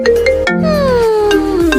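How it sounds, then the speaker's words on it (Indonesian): A phone ringtone sounds loudly for an incoming call during a morning online office meeting, a steady melodic tone pattern with gliding pitch and repeated chime-like accents, heard alone without talk. "Siapa sih pagi-pagi telepon?"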